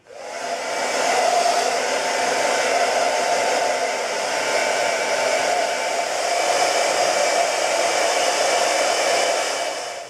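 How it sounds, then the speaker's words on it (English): Hair dryer blowing steadily while drying hair by hand, a loud, constant whooshing roar close by that runs unbroken for several seconds. "I blow dry it completely, just, moving my fingers through my hair and just until it's fully dry"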